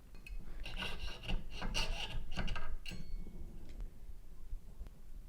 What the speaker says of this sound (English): use a straight-sided file and file as straight as you possibly can to remove those burrs